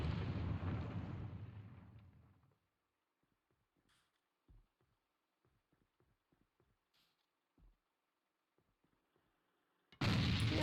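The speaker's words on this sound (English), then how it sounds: "Nades now coming out" Grenades explode in the video game A.V.A during a tournament match, a loud rumbling blast that dies away after two seconds, then sparse faint clicks and thuds before another heavy burst at the end.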